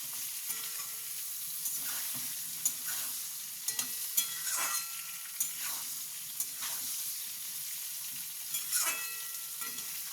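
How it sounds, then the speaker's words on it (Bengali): Eggplant and potato pieces frying in oil in a pan for a Bengali rohu fish curry, giving a steady close sizzle broken by repeated scraping strokes as the spatula stirs them. "এটা একটু প্রথমে ভাজা ভাজা হোক।"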